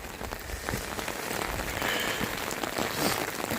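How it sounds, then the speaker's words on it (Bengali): Heavy morning rain pours down in Kausani, in the Kumaon hills, after falling all night. A dense, continuous patter of drops hits the surfaces nearby at an even loudness throughout. "প্রচণ্ড জোরে বৃষ্টি পড়ছে।"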